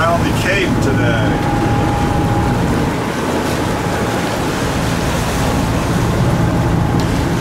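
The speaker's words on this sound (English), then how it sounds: "For the Atlantic Ocean, notice how calm it is." Calm Atlantic Ocean swell off Cape Hatteras heard from aboard a sailboat: a steady wash of water and hull noise with wind buffeting the microphone, continuous and moderately loud throughout.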